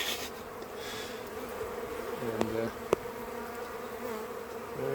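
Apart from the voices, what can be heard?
honeybees buzzing around an open hive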